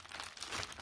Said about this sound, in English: first let's just take out the bubble wrap.